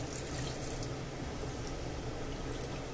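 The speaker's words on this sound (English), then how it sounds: "cover them with water" Water pours into a stew pot over potatoes, with chorizo, clams and beans for a Spanish stew, making a steady, close gush and rush that runs unbroken for a few seconds without talk.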